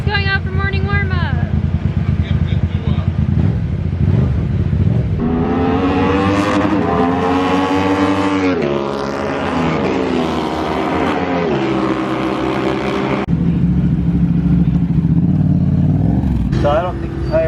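A MotoAmerica race motorcycle at Laguna Seca heads out for morning warm-up, its engine rising and falling through loud revving sweeps that carry on for over fifteen seconds amid trackside noise.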